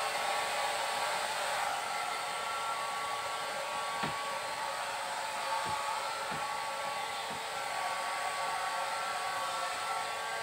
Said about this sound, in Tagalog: Bakit natin kailangan gamitan ng dryer si Tuping Malupit